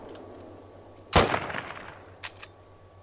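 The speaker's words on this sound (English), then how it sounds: "let's go ahead and just shoot this freaking Mosin Nagant" Mosin Nagant rifle fired in theHunter: Call of the Wild, one sharp, loud report that decays into a rolling echo, followed by a couple of faint mechanical clicks.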